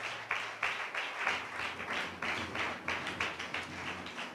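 A church congregation claps together in praise, with quick rhythmic bursts of applause that rise and fall repeatedly, fairly close and with no voices on top.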